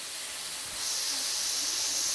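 Steady, bright sizzling hiss of hamburgers frying on a smokeless indoor electric grill set between medium and high, continuous and close, growing slightly louder after the first second with no talking.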